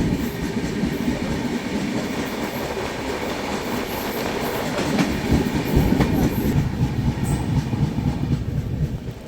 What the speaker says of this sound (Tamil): இதுக்கு பேர் தான் சரக்கு ட்ரெயினா. இதில் தான் பொருளெல்லாம் கொண்டு போவாங்களாம்.